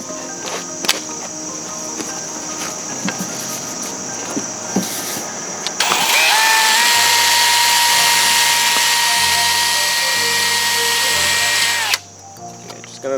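A power drill spinning a sanding pad against a car headlight using a 3M restoration kit, a loud steady high whine running about six seconds after quieter handling sounds, then stopping abruptly.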